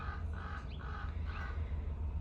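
A crow caws three times in a row, harsh and fairly loud, with a faint chirp between calls over low traffic-like rumble.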